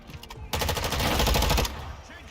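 Rapid automatic gunfire from a video game, a sustained burst of about a second of loud, tightly spaced shots after a few scattered earlier pops, with brief speech nearby.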